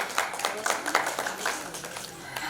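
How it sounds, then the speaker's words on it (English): An audience applauding at a Bride of the Year 2020 event, a moderate patter of scattered hand claps that fades toward the end. "let's give her a huge round of applause, Sagarika"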